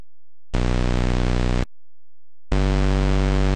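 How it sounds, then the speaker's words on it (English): Two harsh electronic buzzing bursts from an Atari 2600 sound chip, each about a second long, separated by silence; the second is lower and heavier, like a rough synthetic rumble. "Electronic rumble."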